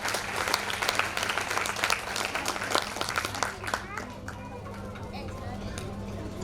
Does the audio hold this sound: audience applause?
yes